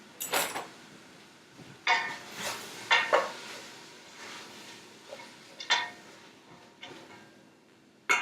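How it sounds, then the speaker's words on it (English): Spoon scrapes and clinks against a pot of vegetable soup in short irregular bursts, close and fairly quiet, with soft simmering between strokes. "so once I get that in there, I'm just going to stir it up."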